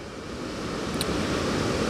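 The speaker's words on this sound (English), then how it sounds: "water's running pretty good" Steady broadband rush of whitewater in a river running through Vitruvian Park, a continuous roar of churning water that grows slightly louder across the span, with no talk over it.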